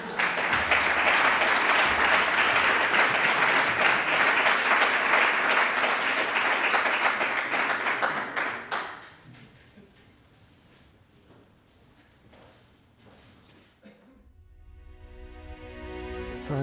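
A large audience at a presentation in Madrid claps loudly and steadily for several seconds, then the applause dies down to near silence before other sounds begin.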